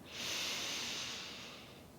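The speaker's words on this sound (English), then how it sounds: "Inhale to begin." A single slow, deep inhalation through the nose during Kundalini yoga breathing, close and soft, swelling quickly and then tapering over about two seconds.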